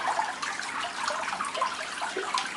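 Water in a small permaculture garden cascade flows in a steady, continuous trickle and splash, moderately close, with no other sounds.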